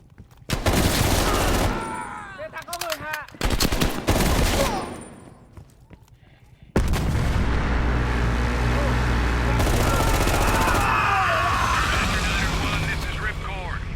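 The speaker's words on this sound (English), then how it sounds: "We are still under heavy fire." Heavy gunfire and explosions in a Call of Duty: Black Ops Cold War battle, with loud bursts of shots and blasts that give way to a sustained, dense wall of combat noise, while voices talk over the fighting.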